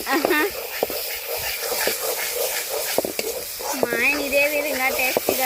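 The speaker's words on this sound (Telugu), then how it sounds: "ఇంకా బాగా వేగింది కదా బాగా వేగింది కదా" Snail curry made with freshly gathered snails fries in a pan over a village cook fire, a steady close sizzle with occasional stirring scrapes, largely under a voice talking throughout.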